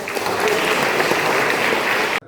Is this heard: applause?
yes